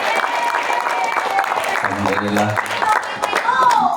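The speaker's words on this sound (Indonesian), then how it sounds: "Tepuk tangan untuk ibu-ibu dong." An audience at a Rajaban religious gathering claps for the women present, a burst of applause and crowd noise mixed with someone talking and a brief tonal hum.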